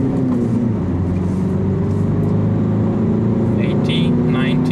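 Steady diesel drone from a 2019 Citroen Berlingo M Shine BlueHDi 130 accelerating onto a highway, a continuous loud cabin hum with road and wind noise that rises gently, no voices.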